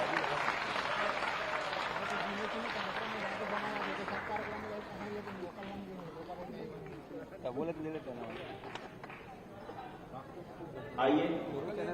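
Audience applause at a religious conference and fire ritual gathering in Raipur, with clapping that swells early and then fades beneath a speaker's voice over a noisy crowd, plus a short loud burst near the end.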